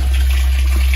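Water rushes at high pressure from a pump-fed pipe, a loud, steady gushing roar close by that holds constant from start to end.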